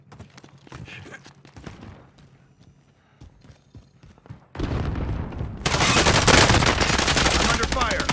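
Gunfire in Call of Duty: Modern Warfare erupts halfway through, dense, loud automatic bursts and explosions layered over game effects, following quieter in-game ambience and scattered clicks.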